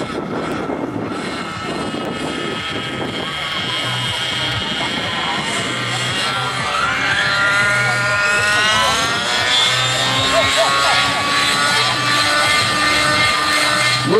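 A model helicopter spins up on a launch pad, the whine of its rotor and motor climbing steadily in pitch and growing louder, continuous with voices talking underneath.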